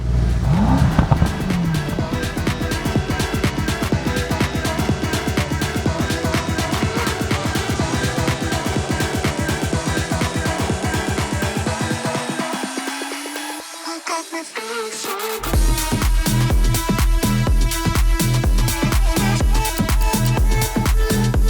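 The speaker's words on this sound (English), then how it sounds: "Let's get these engines fired up." Powerful Mercedes AMG car engines start, roar and rev continuously, rising in pitch, briefly dropping away, then snarling back loud with revving.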